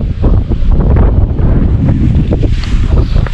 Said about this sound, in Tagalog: Lakas talaga ng hangin talaga pala rito.